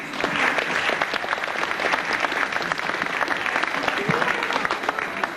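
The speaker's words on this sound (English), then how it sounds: "please give a round of applause to Richard and Debbie." An audience at a 1998 school fundraising fashion show in Bandon, County Cork, Ireland breaks into steady, dense applause, many hands clapping at once in a continuous, fairly close wash lasting several seconds.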